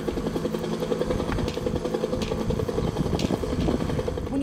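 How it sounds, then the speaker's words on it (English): A recording of a Huey helicopter plays at a Vietnam memorial in Nebraska, its rotor chop forming a loud, continuous, throbbing drone throughout. "you will hear the sound of a Huey helicopter, which is an iconic sound in and of its own"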